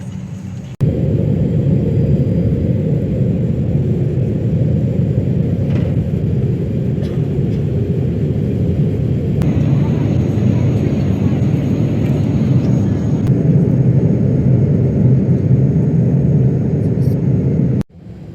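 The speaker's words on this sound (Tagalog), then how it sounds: "papalapag na ang eroplano na aming sinakyan dito po sa Clark International Airport dito po sa Pampanga" Airplane cabin during descent and landing at Clark International Airport in Pampanga, Philippines: a loud, continuous low engine and airflow roar that holds steady for most of the stretch, then cuts off sharply at the end.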